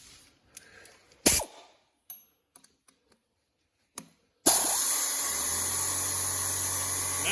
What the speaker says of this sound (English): Now you're not going to be able to hear me because my compressor kicked on